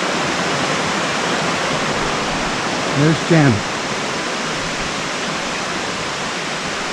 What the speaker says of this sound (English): So, anyway, there's the river.